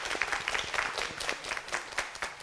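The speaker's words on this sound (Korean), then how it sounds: "같이 박수 한번 치겠습니다" Scattered audience applause at a Korean lecture on study strategy, a fairly small group clapping irregularly and at moderate distance for about two seconds, with no talk over it.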